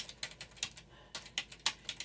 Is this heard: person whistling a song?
no